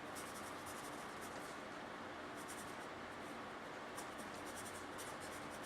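Soft scratchy strokes of pencil writing on paper, in short irregular bursts over a faint steady background hiss.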